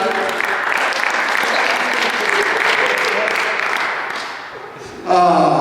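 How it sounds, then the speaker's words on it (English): Applause from guests at a construction company Christmas party, a full round of clapping that tapers off after about four seconds before a voice begins speaking. "give a round of applause, everybody"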